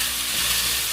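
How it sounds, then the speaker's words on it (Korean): Julienned potato strips stir-fry in a pan over medium heat, a loud, close, continuous sizzle in a short burst with no voices. "이제 중불에 넣고 오랫동안 볶을 겁니다."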